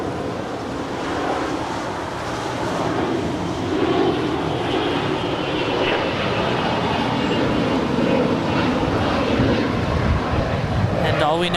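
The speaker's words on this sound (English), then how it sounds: "And all we know about that plane is it's a Bombardier Global 6000." A Bombardier Global 6000 business jet passes overhead at Los Angeles International Airport, a loud, steady broadband engine roar sustained throughout with slight swelling partway through.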